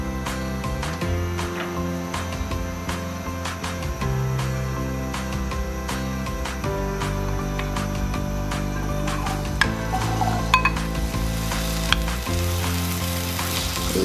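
Two medium potatoes, cut up, frying in oil in a kadai (wok), giving a steady close sizzle with occasional stirring clinks and scrapes throughout.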